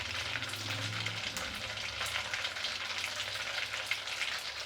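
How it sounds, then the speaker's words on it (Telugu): Mustard seeds crackle in hot oil for a pickle, a dense steady frying sizzle with rapid popping bursts throughout, moderately close, with occasional stirring and no speech. "ఆవాలు వేస్తేనే ఇలా చిట్లా పట్ల అనాలండి, అంత కాగాలి నూనె."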